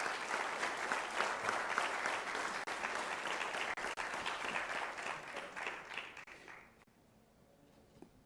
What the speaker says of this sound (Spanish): la mejor forma de agradecer ese tributo es con un fuerte aplauso